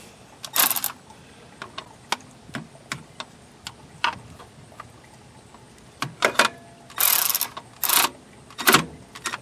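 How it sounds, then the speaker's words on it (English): A Milwaukee ratchet turned by hand to tighten a PTU plug on a 2019 Ford Edge Titanium AWD, giving scattered close clicks and short bursts of ratcheting with quiet gaps between. "I don't even want to use the ratchet electrically, but we'll just turn it"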